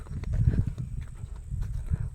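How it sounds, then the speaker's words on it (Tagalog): Hooves clip-clop softly as a horse walks outdoors, a run of irregular muffled thuds at moderate distance, fairly quiet throughout. "Ayun yung kabayo ko, guys."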